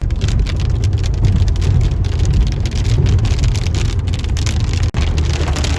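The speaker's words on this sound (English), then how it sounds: "Ah, these big fat drops seemingly coming out of the sun." Big, heavy raindrops fall steadily during a summer thunderstorm in Wells, British Columbia, making a loud, dense, continuous patter with a low rumbling undertone throughout.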